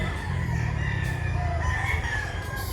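Chickens and roosters at a poultry market fill the air with overlapping clucking and a crow, close and fairly loud, with no one speaking.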